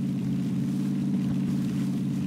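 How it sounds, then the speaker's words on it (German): A car's engine hums steadily at low volume in a video game, a continuous droning motor sound heard at a distance with no voices. "Ich höre ein Auto."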